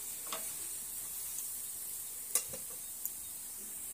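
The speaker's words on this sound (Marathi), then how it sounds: "आता आपला पराठा दोन्ही बाजूनी व्यवस्थित भाजला गेला आहे." A bread-and-potato paratha roasts oil-free on a hot pan, giving a faint, steady sizzle with a few small ticks and pops and no talking.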